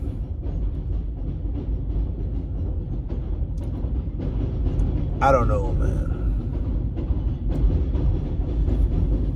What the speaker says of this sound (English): That's the elevated train passing on top.